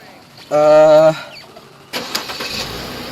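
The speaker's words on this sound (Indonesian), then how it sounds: "Saya hidupin ya, hidupin mesinnya." A Mercedes-Benz W212 E300 engine cranks with a brief whine, then catches and settles into a rough idle, close by.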